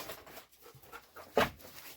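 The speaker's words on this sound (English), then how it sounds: "this dog is losing her mind. She just wants to go outside." A homestead dog, eager to go outside, pants in soft rapid breaths. One brief, louder whine-like burst rises near the middle, and the rest stays faint and close.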